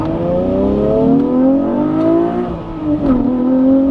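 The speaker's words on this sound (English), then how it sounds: "It just pulls, and with the VTEC, it sounds magnificent." A Honda NSX engine revving hard with VTEC: a loud, close, rising howl that climbs steadily, dips briefly as the revs drop, then climbs again, with no talking.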